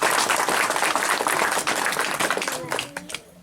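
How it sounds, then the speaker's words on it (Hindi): Audience applause at a meeting: dense, continuous clapping from a crowd fills the room for about three seconds, then thins and fades as a voice begins to speak. "जबरदस्त तालियां"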